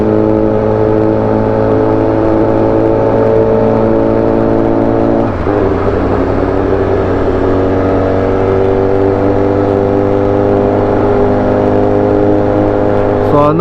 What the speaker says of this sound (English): I'm on the Beamer, and this thing, I forgot how loud it was. It's almost obnoxiously loud.